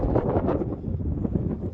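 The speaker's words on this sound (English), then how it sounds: "Sorry for the wind." Wind sweeps across a frozen lake in winter and buffets the microphone with short, loud, rough gusts.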